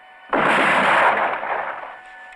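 A loud single volley of gunfire erupts from a film firing squad after the command, a sharp burst followed by a sustained rumbling roar that slowly fades.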